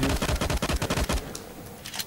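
Rapid automatic gunfire from the video game LifeAfter rattles in a quick burst of evenly spaced shots for about a second, then stops, leaving faint scattered shots and quiet.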